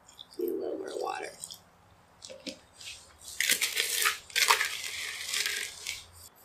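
Stirring a thin, pancake-batter-like mix of dollar store gems, rubbing alcohol and water in a container: wet squishing and scraping bursts, close and intermittent, with a quiet voice talking between strokes.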